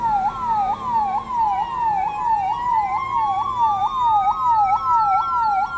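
A 108 government ambulance followed by a fire engine, sirens wailing steadily nearby at a Republic Day ceremony in Pune, one rapid repeating yelp over another higher tone, loud and continuous with traffic rumble underneath.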